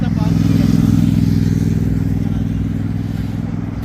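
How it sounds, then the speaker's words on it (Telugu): A loud sports motorcycle engine roars close by at Kuwait Towers, steady and droning, fading slightly as it moves off. "సో ఇక్కడ స్పోర్ట్స్ బైక్ అయితే వస్తూ ఉంది"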